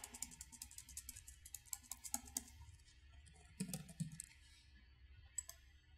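Keys on a computer keyboard clatter in bursts of quick, close clicks with short pauses, soft and steady, with no talking.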